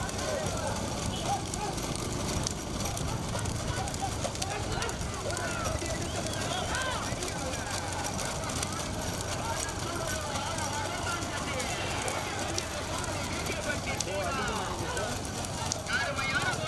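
Racing bulls run with hooves pounding in a steady galloping clatter through a dense, noisy outdoor crowd, while voices and commentary continue over the scene.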